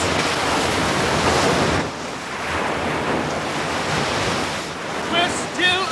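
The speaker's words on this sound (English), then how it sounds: "now curving, ready to crash down and obliterate them from the face of the roiling sea" Crashing ocean waves and wind roar through a dramatized sea storm around a small whaling boat, a loud surging wash that briefly eases and then builds again, with no voices.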